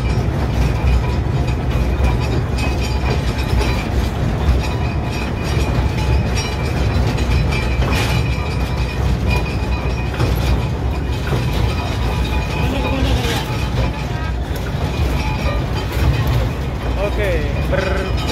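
A sugar cane lorry train at the PG Jatiroto sugar mill rumbles steadily past with continuous wheel and rail clatter, loud and close, while people talk over it.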